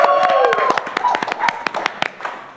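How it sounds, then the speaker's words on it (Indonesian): Scattered hand claps from a studio audience at a shoot inside a corporate tech center, sharp and uneven over a couple of seconds, mixed with a voice and tonal background sound. "Tepuk tangan dulu dong."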